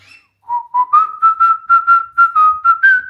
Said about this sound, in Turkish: Bakın şimdi kuş ıslık çaldığında kafasını sallıyor.